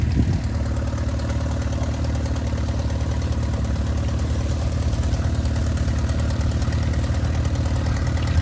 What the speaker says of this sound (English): He has it just off idle in second gear, and that's a good pull right there.